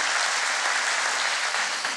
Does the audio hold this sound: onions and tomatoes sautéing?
no